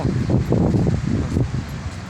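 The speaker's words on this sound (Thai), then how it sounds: "ลมลมแรงมากเลย" Gusty wind rushes past in uneven swells, rustling and buffeting nearby, loud and low with no voices.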